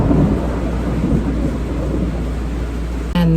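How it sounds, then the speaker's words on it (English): Heavy rain pours steadily, with a deep rumble of thunder underneath, loud and close. It ends in a brief click near the end. "it started raining"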